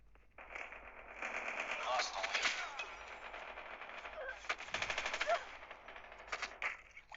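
Rapid automatic gunfire bursts in the mobile shooter game Call of Duty Mobile, clattering in repeated volleys with brief pauses, while a player's voice talks faintly in the background.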